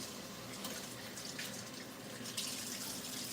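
Tap water runs steadily into a kitchen sink to wet hands before seasoning shrimp, a continuous close hiss and splash with slight surges and no talk.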